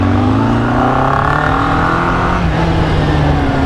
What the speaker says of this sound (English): Nice and revvy bike.